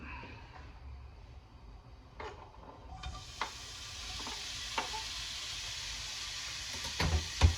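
Bacon frying in a pan as kangaroo is cooked in Australia, a soft hiss building after a few seconds into a steady broadband sizzle, with a few light clinks and scrapes near the end.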